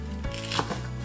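A knife finely julienning green onion for Korean tomato geotjeori gives one soft, close tap on the cutting board in a brief moment.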